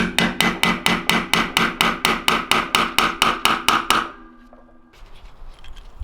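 A hammer tapping a bolt extractor into a broken bolt in a deep hole: about fifteen sharp metallic taps in a steady rhythm, close and loud, followed by quiet.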